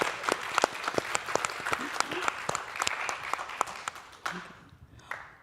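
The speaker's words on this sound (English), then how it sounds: "please, yeah, clap." Scattered audience applause at a creator symposium, distinct individual claps in a loose, uneven rhythm that thins out and fades near the end, with a voice briefly heard.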